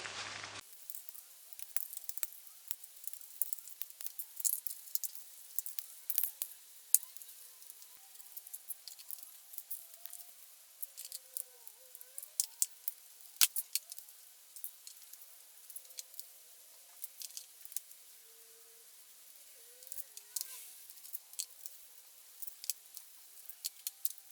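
Bolts being undone on a BMW Mini R56 N14 valve cover, heard as faint scattered metallic clicks and ratchet ticks spread unevenly across a quiet background.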